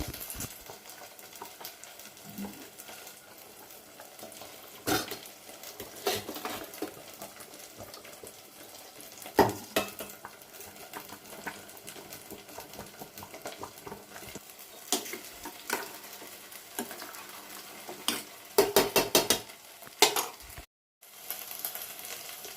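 Spoon scraping and stirring pongal with jaggery in a pot, with irregular knocks and a soft sizzling bed underneath, fairly close and steady throughout.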